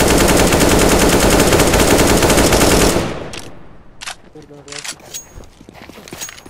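Automatic rifle spray in CS:GO, a loud sustained rapid-fire burst for about three seconds, followed by quieter clicks, footsteps and brief movement sounds.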